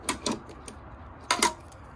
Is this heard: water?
no